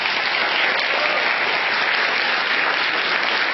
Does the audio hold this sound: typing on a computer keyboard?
no